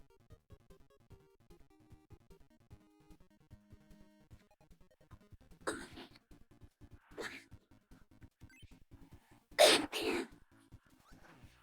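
A young woman coughs several times during a gaming stream. The coughs come as harsh, separate bursts, with the last pair the loudest, over a quiet background of faint clicks and game noise.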